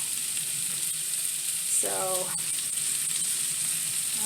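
Steady hissing sizzle of garlic browning in a frying pan, continuous and close, with a brief spoken word over it.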